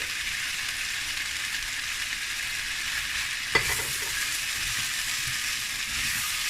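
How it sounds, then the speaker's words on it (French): Chicken with bamboo shoots and black mushrooms stir-fries in a pan, a loud, steady sizzling hiss throughout with a single sharp utensil knock partway through. "On remue un peu vite"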